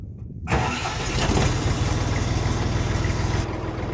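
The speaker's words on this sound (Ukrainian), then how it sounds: "вижимаємо щеплення і тракторець легесенько з півоберту просто бринькає" A Jinma tractor engine cranks and catches after a brief silence, then settles into a steady, loud, rumbling idle close by.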